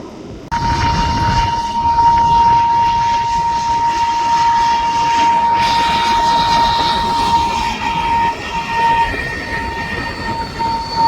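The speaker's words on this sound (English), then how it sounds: "Single engine jet." Single-engine jet fighter passing at an airshow, a loud sustained roar with a steady high whine running throughout, swelling slightly partway through.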